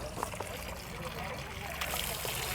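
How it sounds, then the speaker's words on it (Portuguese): Water runs steadily from a garden sink tap in a steady, even trickle and splash that fills the short stretch, with faint voices in the background. "Abre um pouquinho que ele vai longe a água."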